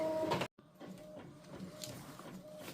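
A Cricut cutting machine works through temporary tattoo material at increased pressure, giving a steady whirring, buzzing motor drone with a brief gap, close and moderately quiet.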